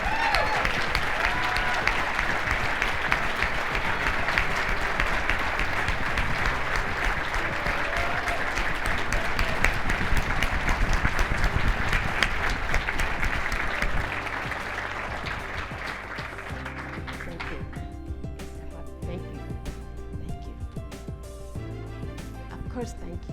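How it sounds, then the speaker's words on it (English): A charity evening audience applauds the 2022 Heroes of Everyday Life in steady, dense applause that carries on and then thins, with background music coming in underneath. "one final round of applause for the 2022 Heroes"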